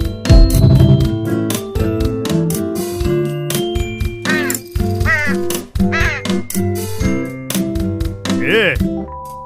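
Cartoon bird calls, squawking quacks and caw-like cries rapidly repeating over bright jingly music and effects, loud and busy, with voices briefly present.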